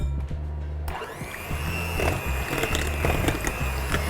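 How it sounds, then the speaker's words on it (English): An electric mixer whirs steadily as sugar and egg are beaten together in a bowl, starting after a brief clatter and running as a continuous, close motor hum with faint knocks against the bowl. "we're gonna take a bowl and we're gonna do the sugar and the egg. And we're gonna mix that together."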